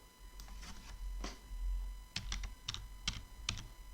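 Keys clatter on a computer keyboard during Python programming work: a handful of close, crisp clicks in short irregular groups over a low steady background hum.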